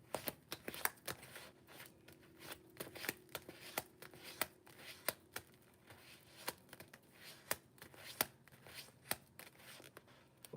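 Tarot cards being shuffled alone, a steady run of crisp riffling slaps and soft bursts repeating every half second or so, close and fairly quiet.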